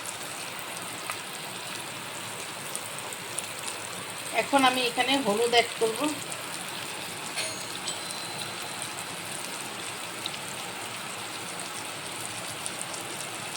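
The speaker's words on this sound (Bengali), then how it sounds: "কি সুন্দর বৃষ্টি দিয়েছে কি মজা লাগছে ভোরবেলা ভোরবেলা বৃষ্টি" Early-morning rain falls in a steady, even hiss that continues throughout, while a voice speaks briefly over it partway through.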